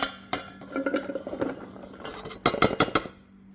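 Utensils clink against a bowl while salt and lemon are mixed together, scattered scraping knocks followed by a quick run of sharp metallic taps near the end.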